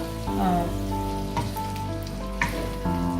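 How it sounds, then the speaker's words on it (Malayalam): Beef frying in a pan for a Kerala-style beef fry, stirred until dark: a steady, close sizzle with occasional stirring scrapes, alongside sustained tonal background sound. "നല്ല ഫ്രൈ ആയി ഡാർക്ക് കളർ ആവുന്ന വരെ ഇടയ്ക്കിടയ്ക്ക് ഇളക്കിക്കൊണ്ടിരിക്കുക"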